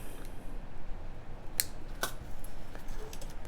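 Beading wire for earrings is snipped with small cutters, giving two sharp, quiet clicks about half a second apart against a faint background.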